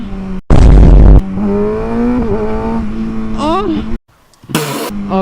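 A 2019 Kawasaki ZX6R sport bike engine revs hard, with a loud burst then a steady rising drone that climbs through gears, a brief drop to near silence and another sharp blip near the end; voices are faintly mixed in.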